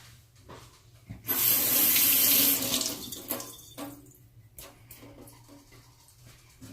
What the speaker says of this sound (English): I did run some water on my onion